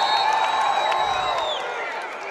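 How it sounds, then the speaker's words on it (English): Arena crowd at a women's college basketball game between Air Force and New Mexico, a loud sustained roar of cheering and whoops filling the building, easing slightly toward the end. "Now the crowd, as soon as they got loud, a foul is called."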